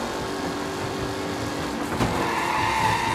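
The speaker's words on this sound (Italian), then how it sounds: "Prime auto sfrecciano al secondo giro." Race cars in the video game Mafia: Definitive Edition roar past with engine drone and a brief skid or tire squeal, loud and continuous throughout.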